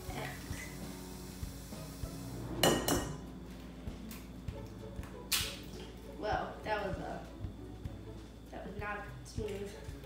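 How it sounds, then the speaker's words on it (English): Eggs whisked in a bowl for a Japanese strawberry shortcake, heard as intermittent metallic clinks and scraping bursts against the bowl, close by, with a person talking over parts of it. "whisk eggs in bowl, then add sugar and mix until incorporated."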